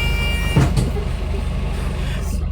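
A steady low engine rumble fills the inside of a moving bus, with a brief clatter and a faint whine, a constant close drone under occasional quiet speech.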